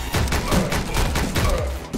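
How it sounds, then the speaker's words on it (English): Dense, sustained gunfire from the video game Speed Limit, a rapid overlapping fusillade of shots that fills the whole stretch loudly with no pauses. "why are you not shooting when I'm shooting at these people?"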